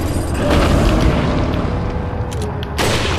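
A rifle fires in Resident Evil 4 on PS4, a loud booming blast followed by a rumbling tail, with a second sharp report near the end and no talking over it.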